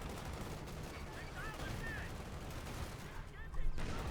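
Gunfire and cannon blasts crackle through a Company of Heroes 2 battle, including Panther tank fire, as scattered sharp reports with a heavier thump near the end over faint game effects.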